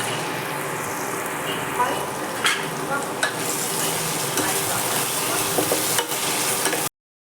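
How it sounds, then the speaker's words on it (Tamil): Pieces of colocasia, cluster beans, drumstick, beans and capsicum sauté over low heat, giving a steady close sizzle with occasional spatula knocks and stirring scrapes. Faint speech sits under the frying. "இப்போ கொஞ்சம் லைட்டாக சிம்மில் வச்சு அதை வதக்கிறோம்"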